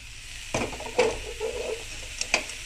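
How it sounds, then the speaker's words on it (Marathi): Grated coconut roasting in a pan over low to medium flame, with a few soft scraping stirs and a faint sizzle, quiet and close. "लो टू मीडियम फ्लेम वरतीच हे खोबरं भाजून घ्यायचं"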